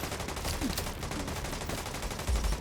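An LMG gunner in a video game lays down continuous light machine gun fire, a steady rapid rattle of shots running unbroken throughout, loud and close, with a heavier burst near the end.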